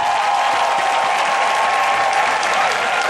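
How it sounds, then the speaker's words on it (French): A congregation applauding during a French-language church service, steady dense clapping from many hands filling the room, continuous and fairly loud throughout. "Acclame ton grand Dieu ce matin."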